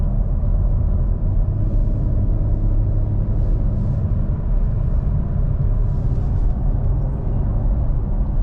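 Steady low road rumble and muted engine drone inside the cabin of a 2017 Porsche Cayenne while driving, even and continuous with faint outside noise.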